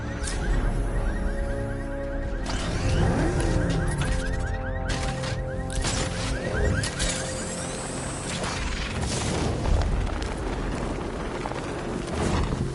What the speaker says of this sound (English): The Arkham Knight's vehicle swerved and crashed up ahead.